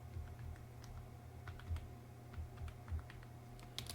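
Someone types on a computer keyboard in a quiet room, a handful of faint, scattered key taps over a low steady hum, with no talking.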